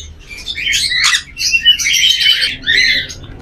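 White back frill pigeons or birds in a bird shop give repeated close, loud chirps and squawky calls in several bursts, with no talk.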